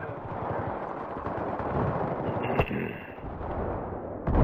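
Gunfire in a multiplayer video game battle, a steady rumble of distant shots with a sharper nearby crack midway and another burst at the end, with voices talking underneath.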